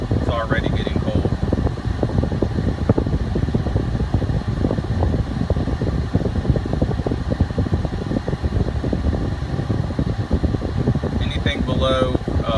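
Car air conditioning fan in a Jeep Cherokee Classic with 58K miles, running at idle on first AC start, a steady loud broadband whoosh throughout with a person talking over it.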